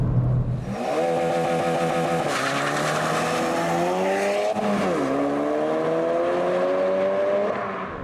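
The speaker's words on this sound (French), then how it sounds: "Accélération foudroyante." A 2017 Ford Focus RS accelerating hard at full throttle, its engine roaring loudly and climbing in pitch through the gears, with brief dips at each upshift, sustained and close for the whole stretch, without speech.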